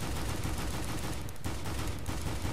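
Dual Berettas pistols in the CS:GO video game fired rapidly at a wall: a dense, continuous burst of loud gunshots, one brief gap midway, then more shots in close succession.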